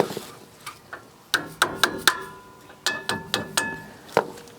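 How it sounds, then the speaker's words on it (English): Corroded brake slide rails being worked off a 2004–2008 Ford F150 rear caliper, giving sharp metallic taps and clicks in irregular clusters, close and fairly loud, with no talking. "just get your little slide rails off"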